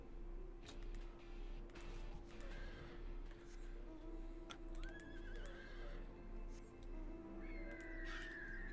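A horse mount in the video game Final Fantasy XIV neighs and whinnies several times over a steady low in-game hum, with faint game effects and clip-clop sounds around it.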